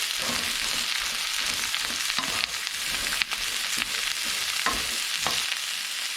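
Cauliflower stir-fries in a hot pan with garlic, a steady sizzle broken by louder crackles and the scrape of stirring at irregular moments, close and without any voices.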